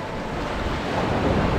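Ocean waves wash on a quiet beach at Praia Pedra de Xaréu in Cabo de Santo Agostinho, near Recife. The surf is a steady, broad rush mixed with wind buffeting the microphone, and no one speaks.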